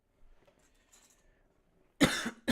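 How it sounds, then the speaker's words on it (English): A single sharp, close cough breaks a near-silent indoor room, followed by a shorter second cough. "Sorry if I'm coughing"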